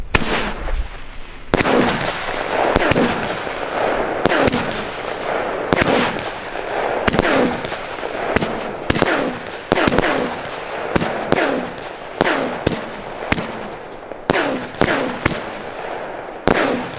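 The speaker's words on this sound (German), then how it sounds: "Tunke 26, eine 16-Schuss-Batterie im Kaliber, ich glaube 25 mm" A 16-shot 25 mm fireworks battery fires in rapid succession, each shot a loud sharp bang with a crackling tail, roughly one per second over an extended sequence.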